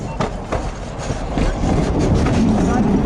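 A narrow-gauge train rumbles slowly nearby as it backs up, with intermittent clanks and knocks of rolling cars, growing louder and steadier over a few seconds.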